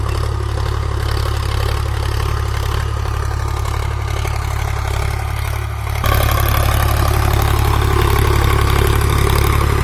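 A Sonalika DI 745 tractor engine drones steadily at close range while pulling a tiller with a cultivator, its deep rumble growing louder and rougher partway through, as if working under load.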